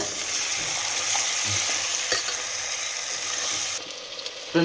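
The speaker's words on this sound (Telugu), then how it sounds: "ఇప్పుడైతే చికెన్ వేస్తున్నాను." Marinated chicken frying in a pan with tomato, ginger-garlic paste and spices for chicken biryani, a loud, dense sizzle with stirring scrapes, easing slightly near the end.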